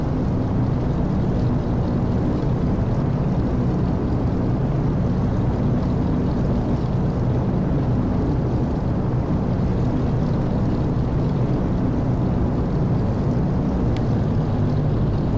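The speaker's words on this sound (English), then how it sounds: "idle the engine at about 1500 RPM to keep the spark plugs clean" A Douglas DC-3 piston engine idles at about 1500 RPM in a flight simulator game, a steady, dense rumbling drone that holds constant throughout with no talking.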